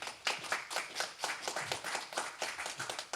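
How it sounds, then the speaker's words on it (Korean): A congregation claps in welcome during a Sunday church service, a modest, quiet run of uneven hand claps with a loose rhythm, heard alone. "환영의 박수."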